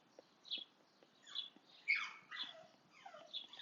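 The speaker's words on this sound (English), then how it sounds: "You can hear my dog, I am sorry." A dog makes scattered yelps and squeaky whines in the background of a quiet room, several short bursts spread across the moment, faint and fairly distant.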